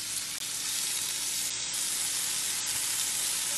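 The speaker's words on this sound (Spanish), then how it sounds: "Agregar la crema de chipotle." Shrimp sizzle in a hot pan as chipotle cream is poured in, a loud, steady frying hiss that fills the whole moment with no pause and no voices.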